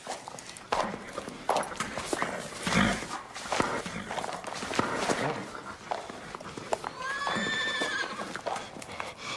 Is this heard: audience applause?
no